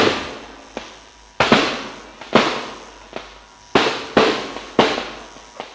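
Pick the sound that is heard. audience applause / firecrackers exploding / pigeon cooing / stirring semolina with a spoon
firecrackers exploding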